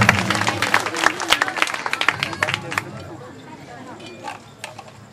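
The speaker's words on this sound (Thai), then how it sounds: "ขอเสียงปรบมือให้กับเธอด้วยนะครับ" A crowd at a Thai temple fair contest claps in a fairly close burst that tapers off after about three seconds, leaving faint scattered claps and background murmur.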